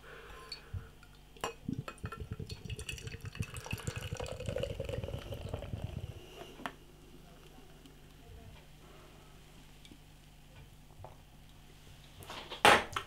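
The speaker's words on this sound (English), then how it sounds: "Beer pouring out." 1079 lager poured from a bottle into a glass, a gurgling liquid stream lasting several seconds, then quiet with faint clinks and someone speaking.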